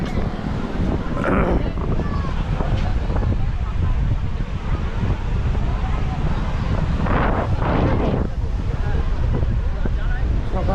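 Sea waves roll onto Tajpur beach at high tide in the morning, under constant wind buffeting the microphone. The roar is loud and steady, with surges swelling at intervals.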